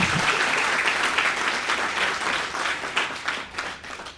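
Audience applause at a World Teachers Day event, dense and sustained for several seconds with no speech, steady clapping from a sizeable crowd that slowly thins toward the end.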